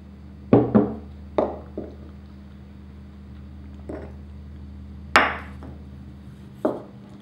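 A spoon mixes flour and water into a sourdough starter, knocking against the container in a handful of sharp, irregular clacks with scraping in between, all over a low steady hum.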